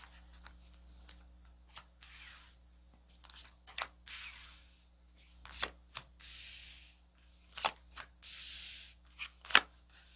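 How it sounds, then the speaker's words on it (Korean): Tarot cards are shuffled and drawn in faint bursts of soft rubbing and papery swishes, broken by sharp little flicks and taps, with no voice. "카드를 뽑아보도록 할게요"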